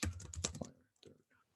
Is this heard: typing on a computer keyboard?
yes